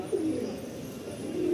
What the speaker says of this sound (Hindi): बाकी कबूतर हमारे ये बैठे हुए हैं।